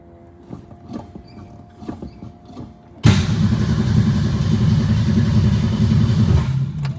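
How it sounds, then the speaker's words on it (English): The electric fuel pump on a 1962 Ford Falcon primes with faint, rapid ticking pulses for about three seconds. A loud, steady engine roar then takes over abruptly and runs close to the end. "Here's that fuel pump prime."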